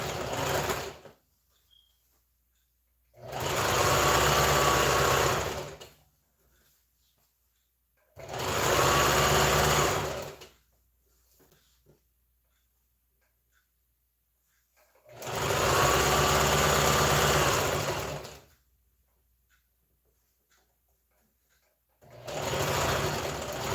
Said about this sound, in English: I'll stitch at 1/4 of an inch.